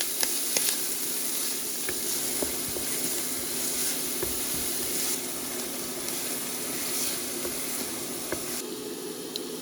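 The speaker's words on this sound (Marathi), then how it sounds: "आतां एका तोपान 3 ते 4 टेबल स्पून तेल घालता आनी कांदो घालून भाजून घेवया." Chopped onions fry in a few tablespoons of oil in a pot for Goan clam curry, giving a steady close sizzle and hiss with faint occasional clicks and no voice over it.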